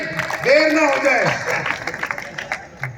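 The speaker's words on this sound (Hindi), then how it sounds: "बच्चा बढ़िया आपका जोरदार ताली" Audience applause at a kavi sammelan comedy poetry show: a voice speaks first, then scattered clapping breaks out and trails off in uneven bursts.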